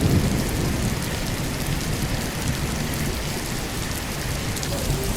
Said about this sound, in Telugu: ఫుల్ వర్షం పడుతుంది